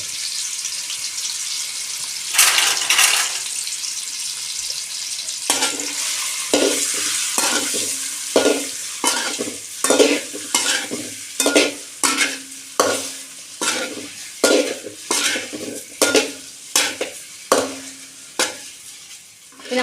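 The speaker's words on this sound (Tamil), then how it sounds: "வறுத்து எடுக்கணும்." Chili powder dry-roasting in a kadai for egg curry, worked with a spatula: after a quieter start, a long run of regular, rhythmic scraping strokes over a light sizzle, near and fairly loud, with no voices.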